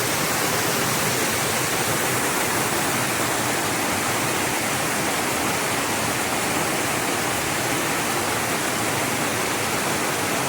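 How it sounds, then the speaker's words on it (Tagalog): Strong river water rushes over big rocks in a steady, loud, unbroken roar that holds without pause and with no voices. "Lakas ng tubig."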